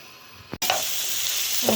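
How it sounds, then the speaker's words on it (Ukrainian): Finely chopped onion and carrot frying in oil in a new frying pan for a light soup, a loud, steady sizzle that bursts in suddenly after a brief quiet and holds close and continuous. "Піджарювати цибульку, мілко нарізану та морквичку."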